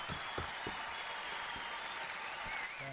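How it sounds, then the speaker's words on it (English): Studio audience applause on a talk show, a loud, continuous burst of crowd clapping with a few sharper individual claps sticking out, lasting about three seconds with no speech over it. "Give me some more applause for that"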